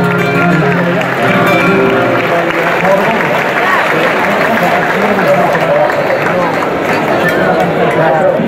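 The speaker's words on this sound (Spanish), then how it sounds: "Un aplauso para todos ellos." Dense, steady applause from a flamenco concert audience in Córdoba fills the space at a loud, even level for the whole stretch, with voices mixed into the clapping.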